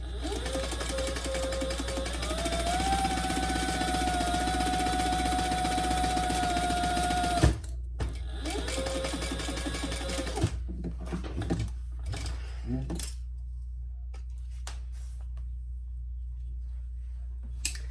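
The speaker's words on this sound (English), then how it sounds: "we're going to sew that at the seam allowance in the pattern" A sewing machine runs steadily as it stitches a seam on a fabric tulip pouch, a fast even whir for several seconds, then a few short bursts and stops before the room falls quiet.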